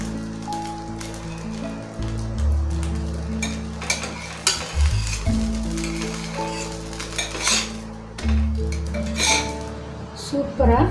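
Dosa frying on a griddle over a low flame, a soft steady sizzle with metallic scrapes and clinks of a spatula against the pan, while someone talks throughout.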